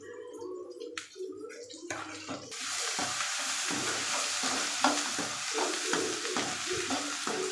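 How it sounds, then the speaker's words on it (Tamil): Dried red chillies frying in a pan are stirred; after a quieter opening, a loud, steady sizzle rises, broken by repeated scraping stirs. "அடுத்து நல்லா கிளறி விட்டுருங்க."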